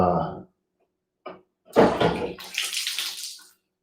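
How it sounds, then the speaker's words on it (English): Water splashing and spilling onto a floor in a sudden burst, with a short knock beforehand, then a broad wet hiss that trails off over a couple of seconds. "that's me not paying attention and spilling water all over the floor"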